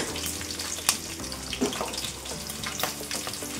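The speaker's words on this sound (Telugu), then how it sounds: "బంగారు రంగు వచ్చేలాగా వేసుకోవాలండి ఎండుమిరపకాయలు." Dried red chillies fry in hot oil for coconut pulihora, a steady close sizzle broken by a few sharp crackles and stirring scrapes.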